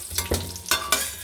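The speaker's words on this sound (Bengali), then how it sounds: "এবার বন্ধুরা, আমার পেঁপে আলু আমার ভাজা হয়ে গেছে।" Papaya and potato pieces frying together in a pan with a little turmeric, a soft sizzle broken by a few louder scraping stirs, close and without talk.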